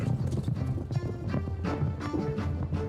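Horses' hooves clip-clop steadily in a fast, continuous rhythm, loud and close, with faint voices mixed in.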